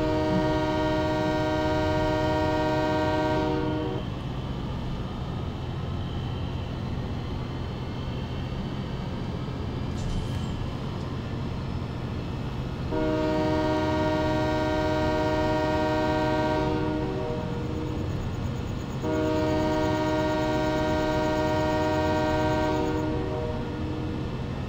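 A freight train carrying soybeans rumbles steadily in Farming Simulator 17, its loud multi-tone horn sounding in three long blasts over the continuous rolling noise.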